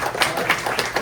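An audience applauds a retired fire chief and former airport manager being welcomed at an aviation event, a steady wash of clapping for about a second with a few louder swells.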